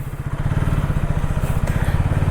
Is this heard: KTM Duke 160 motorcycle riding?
yes